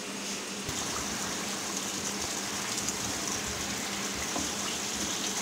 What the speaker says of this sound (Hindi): ये अब हम थोड़ा सा इसमें पानी डालेंगे, पानी डाल के इसको ढक देंगे